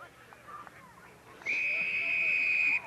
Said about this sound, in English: the referee has blown the whistle here